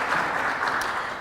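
Brief audience applause for staff at a county economic outlook event, a short burst of many hands clapping at steady loudness.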